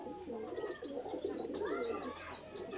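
Baby pigeons of an imported breed line coo in a loft, several soft overlapping coos with a few chirps, close and steady.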